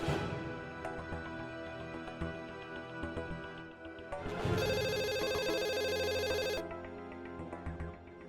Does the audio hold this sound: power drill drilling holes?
no